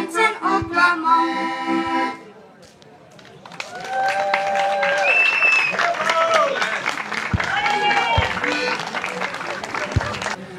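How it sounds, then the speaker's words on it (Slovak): Audience applause at a heligonka (button accordion) contest follows a performer's tune, rising into steady, dense clapping that fills the room and lasts about seven seconds. "Ještě jeden velký potlesk"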